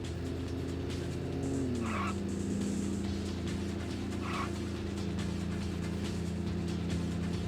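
Race cars in a SEGA racing video game, several on the track at once, with engines droning continuously and tires skidding and squealing in short bursts over the steady roar.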